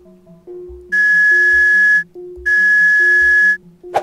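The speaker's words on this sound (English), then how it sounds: "Alright, I have a slide whistle." Two long, steady, high slide-whistle tones sound in succession over a low electronic tune in the video game Jazzpunk, each held about a second, ending with a short blip.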